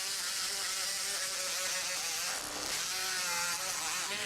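A powered surgical saw cuts bone during orthopedic surgery in an operating room, a continuous high-pitched buzzing whine that dips briefly in pitch under load. It is steady and close, with no voices.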